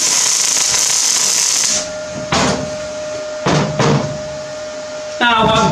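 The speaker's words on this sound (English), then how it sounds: "Let's give it a tack on the other side" Short bursts of tack welding join steel pieces for a hammer in a forge workshop: a long hissing buzz, then two or three brief crackling arcs separated by pauses, loud and close.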